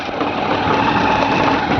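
A motorbike engine drones steadily while being ridden along a hilly road, a close, continuous mid-pitched hum without speech.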